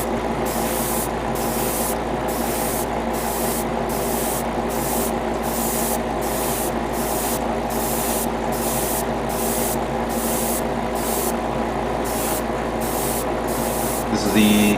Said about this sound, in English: I don't want to accidentally spray this